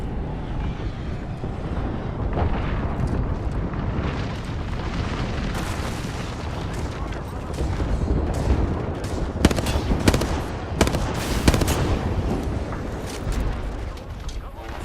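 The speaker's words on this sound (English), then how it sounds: "Signaling an airstrike." Airstrike explosions in a shooter video game: a continuous roar of booms and gunfire, with a cluster of sharp, loud blasts near the end. A voice is heard over parts of it.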